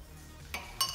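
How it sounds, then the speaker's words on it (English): Hot water stirred in a glass beaker during a food-testing practical, two quick bright clinks of a stirrer against the glass over a quiet background. "so I give it a little mix"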